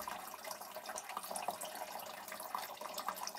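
Water runs steadily through a home RO/DI filter system, a continuous soft hiss and trickle close by with faint drips, unbroken and fairly quiet.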